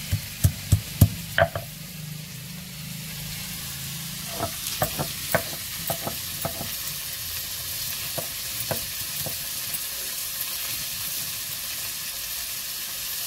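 Chopped onion greens fry in a pan over a village cooking fire, giving a constant soft sizzle broken by sharp clacks of a spatula stirring and scraping, loudest at the start and then spaced out.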